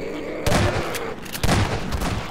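Gunfire from shooting enemies in the video game Half-Life 2, two loud booming bursts over a steady background hum.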